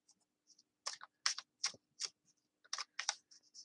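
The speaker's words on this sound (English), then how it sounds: "Let's see how it shuffles like this." A deck of Tarot of the Witch's Garden cards being shuffled by hand, a series of short crisp riffling bursts in an otherwise quiet room, close and fairly soft.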